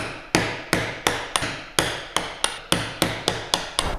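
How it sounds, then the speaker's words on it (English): A mallet strikes a mortise chisel chopping a through mortise by hand in wood, eleven sharp, evenly spaced knocks in a steady rhythm, close and clear with no talking. "So now exactly the same movement as the mortise chisel, a few small steps back, careful not to hit either of those outer lines."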